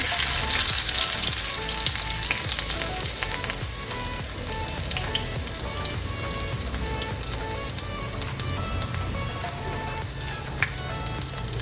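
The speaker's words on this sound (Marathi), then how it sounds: "इथे आपली मोरी तडतडली आहे याच्यामध्ये आपण हा कुटलेला लसूण आहे तो टाकून द्यायचा" Crushed garlic dropped into hot oil where mustard seeds have already crackled, giving a loud, steady, dense sizzle with fine popping throughout, close and continuous with no talk.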